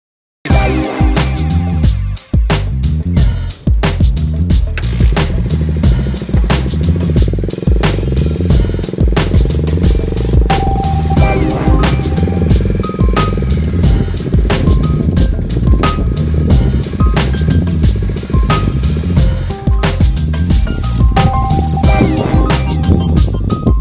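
A Jeep-style custom Bajaj Pulsar motorcycle idles and blips close by, a steady chugging rumble interrupted by sharp throttle bursts and clicks, with faint talking at times.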